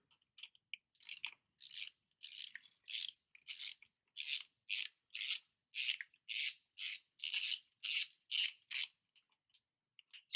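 A ratchet with an 11 mm socket tightens the oil catch can bolt on an Audi B8, an even run of about seventeen quick, bright clicking strokes, close and alone.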